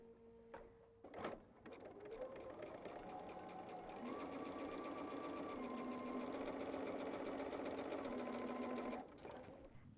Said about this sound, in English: So let's sew that 1/4 inch seam.